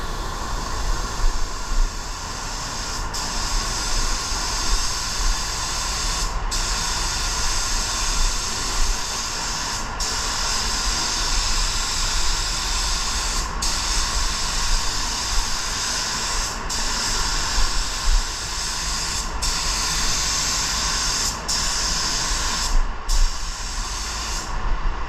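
A spray gun at 30 psi lays a control coat of candy paint, a steady loud hiss that runs without a break, with a few brief sharp ticks spaced through it.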